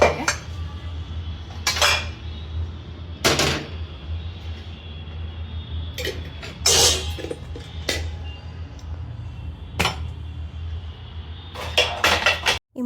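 Dishes, pots and utensils being stacked and arranged in a home kitchen, with sharp metallic clanks and clinks coming in scattered bursts over a low steady hum, and no talking.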